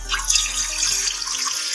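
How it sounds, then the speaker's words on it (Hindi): Water runs into a cooking pot for sago custard in a continuous splashing stream, close and fairly loud, with no voices. "देखिए हम पानी डालते हैं।"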